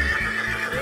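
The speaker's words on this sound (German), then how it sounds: "das ist ein Pferd." A horse neighs in a short, loud whinny, close by and alone, with a faint clip-clop underneath.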